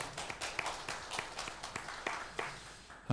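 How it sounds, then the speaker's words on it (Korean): A Sunday worship congregation gives applause to its church choir after a four-part hymn, a modest round of clapping with a loose, fairly even rhythm of individual claps, moderately close and fading out near the end. "우리 격려하는 마음으로 다시 한번 박수로 축복하시겠습니다"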